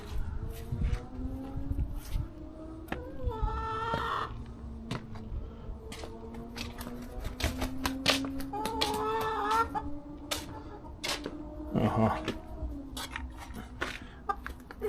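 Chickens cluck and squawk in bursts while pecking at crushed snails, with frequent sharp clicks and taps of feeding, close by and busy throughout.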